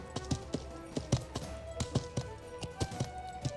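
In the medieval MMO Life is Feudal, a ridden horse's hooves clop in a regular trotting rhythm, a string of crisp, close knocks at even intervals against a soft, quiet backdrop.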